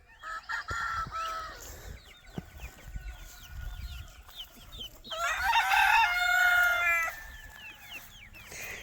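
Chickens in a backyard bird enclosure cluck and squawk, with a loud rooster crow rising in the middle, while softer clucks and bird calls carry on around it and a few bumps sound nearby.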